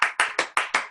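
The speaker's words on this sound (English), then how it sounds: "clapping disperses negative energy too" Five sharp hand claps ring out close and loud at an even, brisk rhythm, each with a short fading tail and no talking.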